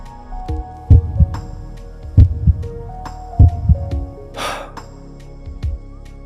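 A heartbeat sound effect, presented as an Okinawan grandmother's heart: a slow run of deep, close double thumps, about four beats in a steady rhythm, with a brief breathy rush midway and no talking.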